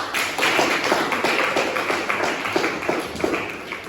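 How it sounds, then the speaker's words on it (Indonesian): A group of students claps together in a classroom, a dense burst of hand claps, loud and close, holding steady for several seconds before tapering off. "Tepuk tangan untuk kelompok"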